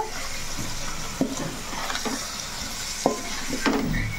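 Vegetable pieces sizzling steadily in a hot pan, with a few soft scraping stirs of a spoon against the pan bottom and faint clinks, continuous frying hiss throughout.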